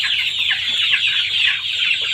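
Chickens cluck continuously in a close, busy chorus on a poultry farm, with no voices over them.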